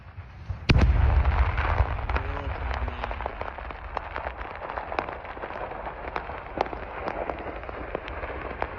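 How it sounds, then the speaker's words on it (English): Ammunition depot explosions in Rostov, opening with a heavy blast followed by a dense, continuous crackle of secondary detonations and popping munitions, loud and sustained over a rumbling background. "An ammo depot in Rostov was blown up today."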